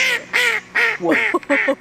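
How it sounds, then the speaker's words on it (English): Ducks on a river give five loud, nasal quacks in quick succession, close by and clear against a quiet background. "The only sounds you can really hear are the ducks."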